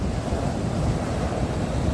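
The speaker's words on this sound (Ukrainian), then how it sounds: "Море сьогодні дуже красиве, привабливе, маняще" Sea waves wash onto the shore in Odesa on a windy winter day, a loud, continuous roar of surf with wind buffeting the microphone and no voices.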